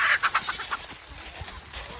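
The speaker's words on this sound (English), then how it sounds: "There's a little chicken skirmish." Farm chickens in a brief skirmish: a rapid run of sharp, squawking clucks right at the start that fades into scattered softer fowl noises and faint outdoor background.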